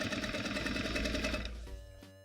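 A sewing machine stitches along a jeans waistband in a rapid, loud, close-up mechanical chatter that runs steadily and then slows and stops near the end.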